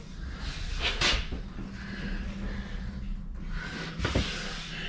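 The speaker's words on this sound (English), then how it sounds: "Let me open the bathroom door." A bathroom door in a tiny house on wheels creaks and scrapes open with a couple of soft knocks and rattles, fairly close, over a steady low background hum.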